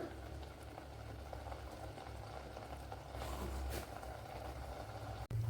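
A cucumber curry simmers in a pot over a low flame, giving a steady, close bubbling hiss that runs without a break and swells slightly near the end, with no talking.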